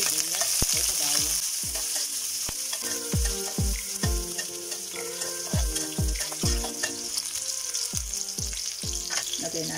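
Onion frying in hot oil in a pan for pancit lomi, giving a steady close sizzle with regular knocking and clattering from stirring throughout.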